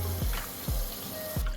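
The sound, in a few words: washing collard greens in a sink of cold water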